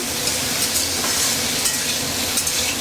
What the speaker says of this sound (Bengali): তো এইভাবে আমি আলুটাকে ভেজে নিচ্ছি।